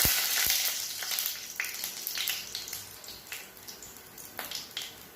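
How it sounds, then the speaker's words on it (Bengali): Whole black cardamom, a large cinnamon stick and a dried red chilli hit hot oil and crackle in a loud, steady sizzle. Sharp pops and spits sound up close, with no voice over them. "এবার আমি ফোড়ন দেব। বড় এলাচ, দারচিনি একটা বড়, একটা শুকনো লঙ্কা"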